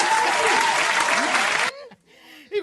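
Loud, dense applause and cheering burst during a hip hop awards podcast show, filling the first second and a half before cutting off sharply, followed by a short stretch of quieter talk.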